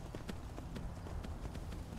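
The red-eyed horse Shadowmere trotting in the video game Skyrim, a steady, faint rhythmic clip-clop of hoofbeats at an even pace over quiet ambient background.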